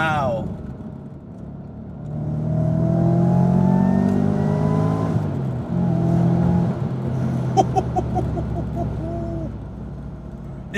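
A supercharged Audi accelerates hard, its engine note climbing through rising revs and shifting, loud and close from inside the car, with brief talk mixed in.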